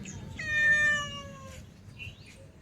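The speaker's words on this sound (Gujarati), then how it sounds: "બિલાડી આવીને બેઠી છે, મ્યાઉ મ્યાઉ કરી દીધી છે" A cat gives one clear, drawn-out meow up close, followed by a fainter, shorter mew.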